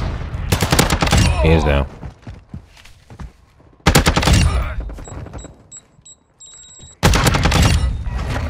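Bursts of rapid ISO Hemlock rifle fire in Call of Duty: Modern Warfare 2, loud and close, three long volleys separated by quieter gaps, with someone briefly talking in between.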